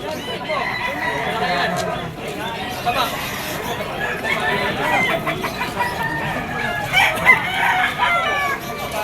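Stag roosters, including a green-legged one, crow repeatedly amid the steady hubbub of a busy Malabon pet market, with people talking nearby throughout.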